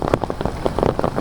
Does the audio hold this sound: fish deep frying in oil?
no